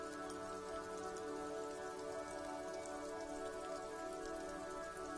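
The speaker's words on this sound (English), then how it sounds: "This rain will not let up anytime soon." Steady rain falling in the video game Disco Elysium, a constant even patter of drops, soft and unbroken, with a faint tonal background drone.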